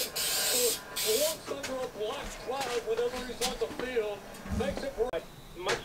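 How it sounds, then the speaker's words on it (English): Short hissing bursts of spray paint on a scooter deck, close by, broken up by pauses, with people talking over and between the sprays. "So we were done spray painting the deck"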